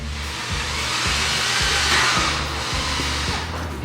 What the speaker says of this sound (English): We're going to use our 3/4" Tech screws and a number 2 square drive bit.